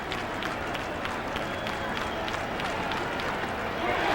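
A baseball crowd in a 1995 Cardinals vs Mets game roars and claps in a steady, dense wash of noise, with a broadcaster talking over it.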